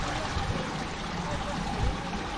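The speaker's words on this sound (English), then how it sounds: "these bits here you can lie down and they will bubble away like a jacuzzi" Jacuzzi jets bubbling in a hotel pool, a constant close gurgling rush of water and air with a voice speaking over it.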